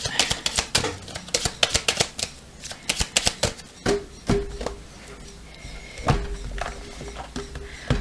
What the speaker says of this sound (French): On va mélanger un petit peu aussi.